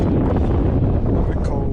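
Gusty wind buffets the microphone on Ceduna Jetty on a cold, grey day, a continuous close roar and rumble with no pauses across the short stretch.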